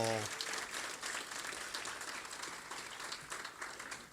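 Faint, distant applause from the crowd at an MLK breakfast in Moscow, Idaho, honoring the kitchen crew. It holds as a steady wash for several seconds after a brief tonal sound at the start.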